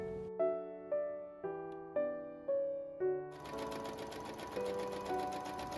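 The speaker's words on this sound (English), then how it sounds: "Then sew it about 1/4 inches away from the edge." A sewing machine sews a long gathering stitch along the edge of a petticoat, a faint, continuous whirring that begins partway through over soft piano notes that play throughout.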